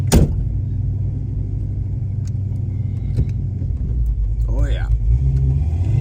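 A 1966 Chevrolet Nova with a 700R overdrive transmission rumbles steadily as it drives and gathers speed. The engine is loud and close, with a short spoken exclamation partway through.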